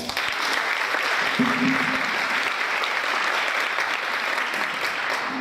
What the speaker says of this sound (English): Round of applause, Mr. Tae Kwok.